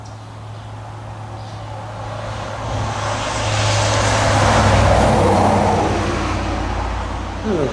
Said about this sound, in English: And of course we have our wonderful traffic as always.